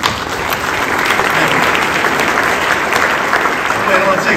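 A large audience applauds during Seattle Mayor Bruce Harrell's 2023 State of the City speech, a dense, continuous wash of clapping that stays loud and even throughout.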